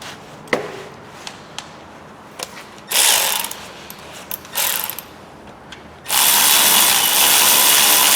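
A ratchet works on the alternator bolts of a 1.8 petrol Ford Focus, giving sparse single clicks at first, then two short bursts of rapid ratcheting and a final sustained run, all loud and close.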